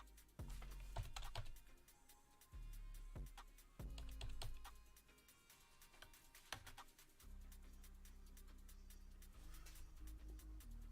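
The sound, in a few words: typing on a computer keyboard into a console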